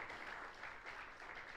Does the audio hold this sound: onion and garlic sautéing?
no